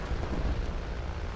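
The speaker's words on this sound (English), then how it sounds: "He overshot with a bomb." A bomb explosion in War Thunder, a distant, rumbling low boom rolling continuously through a brief moment without a sharp onset.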